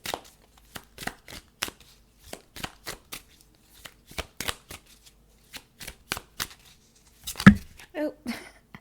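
Tarot cards are handled and drawn from a deck in a quiet room, a steady run of crisp, evenly spaced card snaps and slides, with a short burst of louder shuffling near the end.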